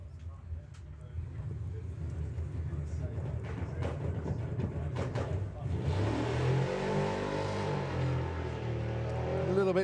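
Drag racing truck accelerating hard down the Santa Pod Raceway strip at Bug Jam 2022, with a rising roar that grows louder after a few seconds and a commentator talking over it.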